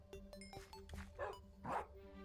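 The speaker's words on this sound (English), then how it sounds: "Now, will it create a dog with a new sound or not?" Short yipping dog barks from a Minecraft dog bred in the game, a few quick, faint yaps and whimpery bow-wows heard over quiet game background with no talking.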